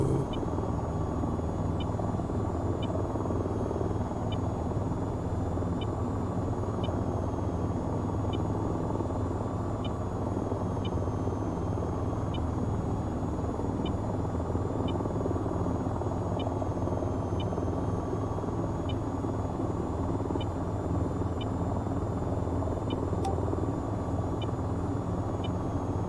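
Attack helicopter in flight over desert terrain in the VR game VTOL VR: a steady, loud, droning rotor and engine roar that holds constant throughout, with no talk.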